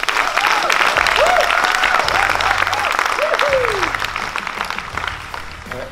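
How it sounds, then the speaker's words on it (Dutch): An audience at a speakers' club event applauds steadily, loud and dense, while rising musical tones and a low beat play underneath. "Daar een applaus voor Rico Bakker."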